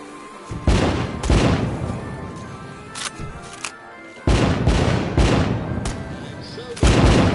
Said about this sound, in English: Light up those fireworks, sit back, and enjoy the show.